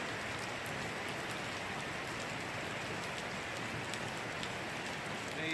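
Steady rain falls across a field and onto nearby surfaces on a gloomy day, a dense, even hiss of countless drops with no break, fairly soft and unbroken by voices.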